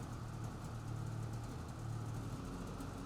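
A Polaris Switchback Assault 146 snowmobile engine runs at a steady idle, a low, even rumble with a constant drone and no talk over it.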